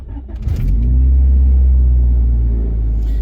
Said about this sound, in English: I love the startup on this car now.